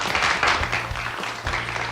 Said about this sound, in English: was that the drop you wanted, the applause?